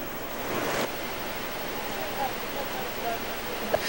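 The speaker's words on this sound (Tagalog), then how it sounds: "lalong lumakas ang hangin at ulan" A storm in Southern Leyte sends strong wind and rain roaring in a constant broadband rush, loud and near, with gusts swelling and easing, and a voice talking faintly beneath it.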